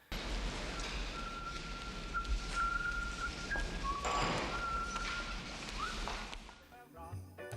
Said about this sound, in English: John even whistles a few bars of Jingle Bells as he strolls through Nakatomi Plaza.